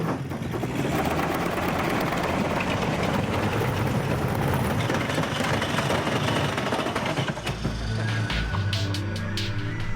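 Recorded car engine revving blasts from a loudspeaker as a dense, harsh, continuous roar that holds steady throughout and shifts to a thinner, more tonal drone toward the end.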